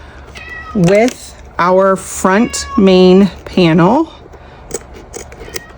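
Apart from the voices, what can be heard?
cat meowing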